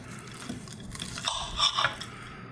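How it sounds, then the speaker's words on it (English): Knife slicing through a crispy deep-fried California roll sushi ball topped with furikake, a crunchy crackling cut that builds into loud close crunches near the end, with no talking. "Now let's cut one of these guys open."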